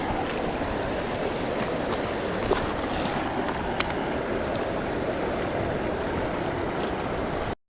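Flood-scoured creek flowing, a continuous broadband rush of moving water, close and steady, with a couple of faint clicks, then cutting off abruptly.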